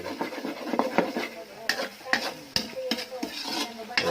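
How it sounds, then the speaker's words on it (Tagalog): Meat stirred and sizzling in a pan while cooking Bikol Express, with close scraping stir strokes and bright clattering hits against steady frying hiss, no talk. "Kailangan po natin lutuin yung karne ng mabuti."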